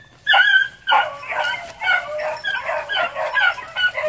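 Hunting dogs chasing a rabbit yelp and bay in rapid, excited bursts, a string of high-pitched barks close by with no talk over them.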